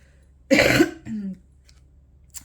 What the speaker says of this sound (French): excusez-moi, je tousse, c'est tout.